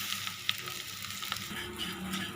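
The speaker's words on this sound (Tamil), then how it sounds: "இப்போது அதே கடாயில் நம்ம அவலை வறுத்துடலாம்." Poha, or flattened rice, is dry-roasted in a kadai, a brief, steady rustling sizzle with a few light clicks of stirring close by and no voices.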